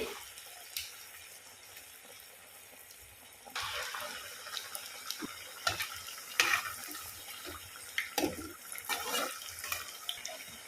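Batter-coated banana slices go into hot oil, bringing a soft sizzle that grows fuller partway through, with scattered clinks and scrapes of a utensil nearby.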